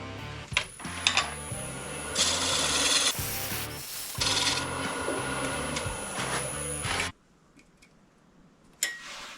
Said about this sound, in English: I think I'll just sand out those tool marks.